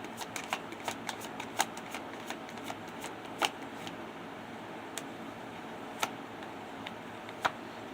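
A deck of tarot-style cards is shuffled by hand, giving a steady close riffling rustle with scattered sharp clicks and snaps where the sticky cards catch, and no speech.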